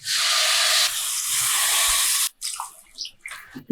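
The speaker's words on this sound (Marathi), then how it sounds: "आता यामध्ये ओतायचं पाणी" Water gushes steadily into a cooking pot of sautéed pithla ingredients with a loud hissing pour for about two seconds, then stops, followed by a few faint clinks and splashes.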